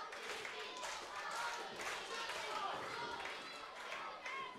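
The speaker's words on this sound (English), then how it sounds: "The crowd here in Morecambe are just trying to get RPD that momentum" A pro wrestling crowd in Morecambe claps and cheers in a steady, dense roar of hand claps and chatter that fills the whole stretch without letting up.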